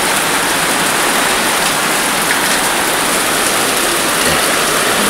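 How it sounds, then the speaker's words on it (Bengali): Heavy rain pours down steadily, a dense, loud, unbroken hiss with no pauses or voices. "তো দেখো জোরদার বৃষ্টি শুরু আমাদের এইখানে"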